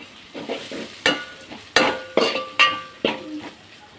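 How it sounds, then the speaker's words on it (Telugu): Coriander powder frying in oil for a Telugu-style korameenu fish curry, a close, steady sizzle broken by several sharp clinks and scrapes of a utensil stirring against the pan. "ధనియా పౌడర్ కూడా వేసుకొని ఆయిల్లో కొద్దిసేపు ఫ్రై చేసుకున్నాం"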